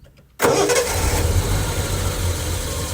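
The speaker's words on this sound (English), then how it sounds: "We'll get a sound of that start and then the engine." A 1974 Triumph TR6 engine cranks briefly and catches, then settles into a loud, steady idle close by after a moment of silence.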